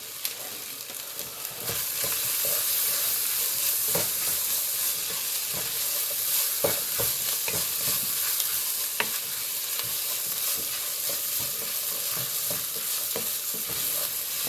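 Taco meat and vegetables sizzle loudly in a pan, a steady close frying hiss broken by the scrape and knock of stirring.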